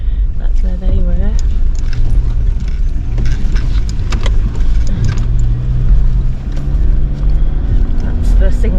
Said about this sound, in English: That's the single car that we saw come in.